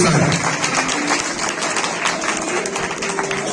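Steady crowd applause welcoming a bride at a wedding celebration, dense clapping throughout, mixed with background chatter and voices in a lively room.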